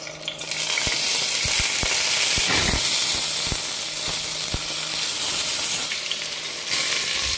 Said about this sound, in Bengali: ফাইনালি আলুটা আমি ফ্রাই করব।